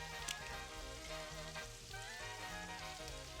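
Garlic frying in fat in a pan for gravy, a steady close sizzle and crackle that holds at an even level throughout with no talking.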